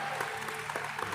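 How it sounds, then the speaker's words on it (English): An audience claps together in a brief, dense burst of continuous applause at a podcast competition final. "great round of applause for him."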